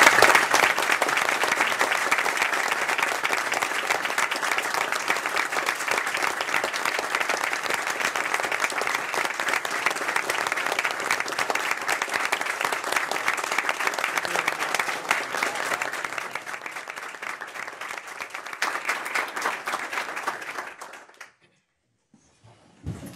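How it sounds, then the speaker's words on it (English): Long, loud ovation from a room of board members and guests at a university system governors' meeting, honoring a departing chancellor named Steve: dense clapping that holds steady for about twenty seconds, then drops off abruptly to near silence. "if I could ask everybody to join me in a round of applause for Steve"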